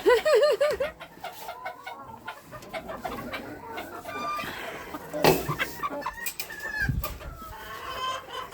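Small bantam hens wander a farmyard clucking and murmuring close by, with busy overlapping calls, a few sharper squawks and a brief louder burst near the middle, mixed into outdoor background sounds.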